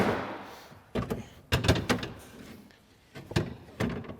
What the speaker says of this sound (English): So we'll go to reinstall the seat back into the vehicle.